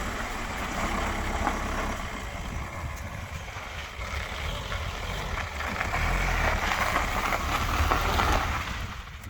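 A car pulls away outdoors, its engine a low steady rumble that swells slightly midway before fading, heard at moderate distance under a quiet background.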